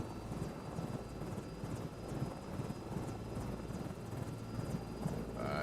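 A Sky Crane helicopter flies in a flight simulator game, its rotor and engine making a steady, loud, unbroken drone throughout with no talking.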